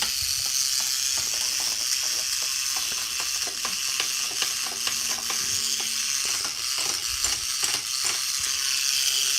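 A small motor in a Tower Tools action-figure toy runs steadily, giving off a continuous whirring buzz laced with rapid, uneven ratcheting clicks, close and fairly loud throughout.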